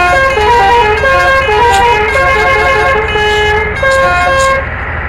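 A loud, sustained truck horn blares with a shifting multi-tone melody, continuous and close, with brief changes in pitch pattern throughout.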